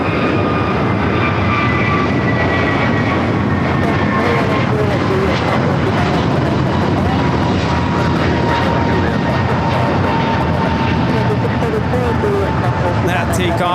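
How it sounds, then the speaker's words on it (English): Boeing 757 arriving at LAX from Minneapolis, a loud sustained jet engine roar with whining tones that slowly shift pitch, continuous throughout and close by, with people talking over it. "that's 757 coming in from Minneapolis"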